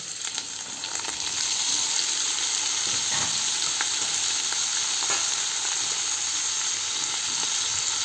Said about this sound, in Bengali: এটাকে ভালো করে আগে ভাজতে হবে।